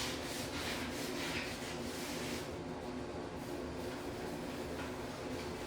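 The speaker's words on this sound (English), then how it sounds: "I am going to end up scrubbing this with a scrubber brush." A scrubber brush scrubs hard at a bathroom surface during a deep clean, giving a steady, close, rasping rub that continues without pause and with no talking.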